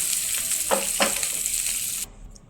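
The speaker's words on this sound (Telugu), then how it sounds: "ఆయిల్ వేసి పోపు గింజలంతా వేసి ఇంగు వేసేసి తిరమాత వేసేయటమే" Mustard seeds and asafoetida sizzle steadily in hot oil for a chutney tempering, with a couple of stirring scrapes midway before the sizzle cuts off abruptly near the end.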